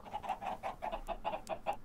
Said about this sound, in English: It's gonna give me, oh, lots of chickens.